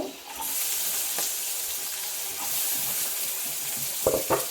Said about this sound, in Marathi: कांदा लाल होईपर्यंत चांगला गुलाबी होईपर्यंत परतून घ्यायचा, कच्चेपणा जाईपर्यंत।